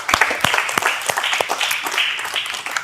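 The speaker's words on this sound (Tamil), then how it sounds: "கரகோஷத்தோட." An audience at a stage show claps in a loud, continuous round of applause, close and lively, with individual sharp claps standing out over the dense patter for about three seconds.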